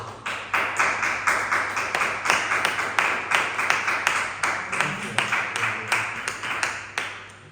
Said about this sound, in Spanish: Dale un fuerte aplauso a Cristo